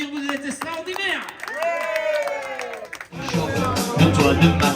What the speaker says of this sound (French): Vous pouvez vous applaudir, vous êtes extraordinaires.